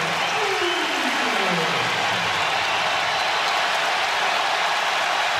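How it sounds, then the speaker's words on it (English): A packed arena crowd roars during a Purdue basketball game against Michigan State, a loud, continuous wall of cheering that holds steady throughout, with a commentator's voice faintly audible over it. "this crowd is in full throat"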